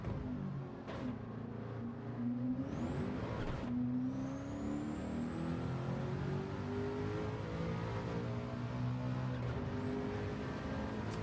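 A car engine in the Gran Turismo 7 racing game revs high and climbs steadily through the gears, loud and continuous, with a couple of short shifts between rising pitches.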